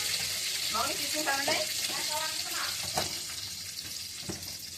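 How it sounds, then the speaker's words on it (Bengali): Cashews frying gently in a pan over low heat in a home kitchen give a steady, soft broadband sizzle with occasional stirring clinks and a few faint voice-like sounds mixed in. "প্রথমে কাজুটা দিয়ে দিই, চুলার আঁচটা কিন্তু এবার কমিয়ে রেখেছি, বুঝছেন? তো একটু করে ভেজে দিলে চেনটা ভালো হবে।"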